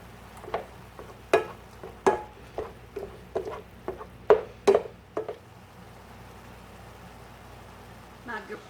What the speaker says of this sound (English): as it's frying I'm going to continue to chop it up and stir it around